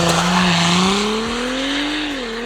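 Stage 2 tuned Audi accelerating hard through the gears, its engine note climbing steadily and loud and close, with a quick dip at a shift near the end.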